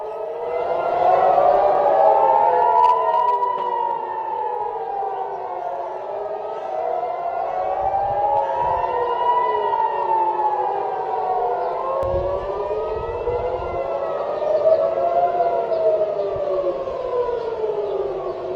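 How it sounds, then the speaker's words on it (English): Civil defense air raid sirens wailing over Tel Aviv, Israel: several loud sirens rising and falling in overlapping slow sweeps, sustained throughout, with faint distant background noise underneath. "we are hearing sirens over Tel Aviv in Israel again"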